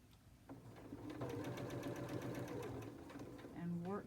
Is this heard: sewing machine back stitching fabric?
yes